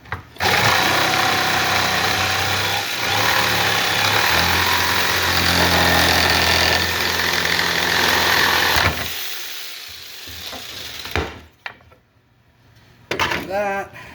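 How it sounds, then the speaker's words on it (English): A power tool trims excess wood for a crucifix build, roaring loudly and steadily for several seconds, then dying away into near quiet before a short burst of clatter and talk. "Let's trim off some of this excess wood here that we don't need."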